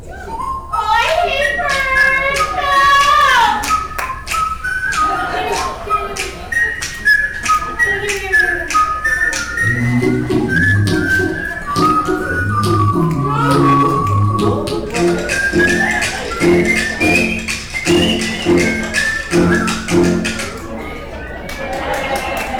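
A person whistles a bird-call imitation of a red and yellow crescent-breasted, blue-footed bird, with rapid trilling, warbling phrases, joined midway by lower tonal notes and background voices.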